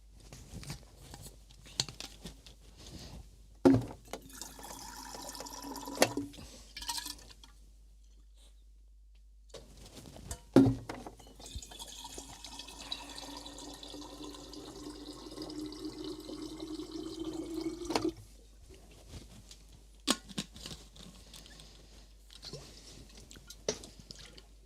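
Tap water runs and fills a container in two stretches separated by a short pause, steady and moderately close, with a few clinks and handling noises and no talking.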